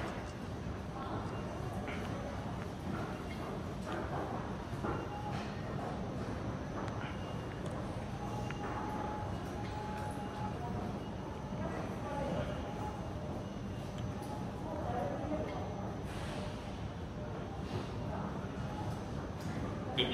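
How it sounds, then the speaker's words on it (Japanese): A Yokohama Municipal Subway Blue Line 3000R train pulls out of Azamino station with a steady, moderate rumble and hum. Platform announcements play over the sound. "1番線から普通湘南台行きの電車が発車します。"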